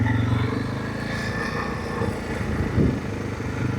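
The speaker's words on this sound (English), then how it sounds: "I'm disturbing him with the engine noise" A vehicle engine runs steadily and close by with a low droning rumble that holds throughout, rising briefly near the end, on a quiet rural approach down to a lake.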